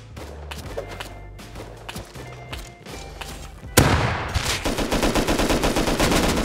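Gunfire in the Rust survival game, a sparse run of shots giving way to a dense, loud, rapid automatic burst that keeps going to the end.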